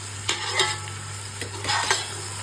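Masala being stirred and fried in a pan while cooking chicken biryani, with a steady sizzle and several sharp scraping stirs of a spoon against the pan, close and alone.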